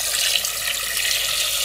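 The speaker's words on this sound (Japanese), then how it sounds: "ほんの少しだけ水入れた。" A short, steady stream of water splashing into a waterless cooking pot, a bright running hiss with no speech.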